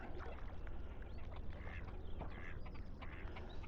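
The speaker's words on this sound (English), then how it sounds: "Don't know how much these ducks actually scare them off." Ducks quack close by at a carp fishing lake, a run of short nasal calls over a steady background of splashing and paddling water.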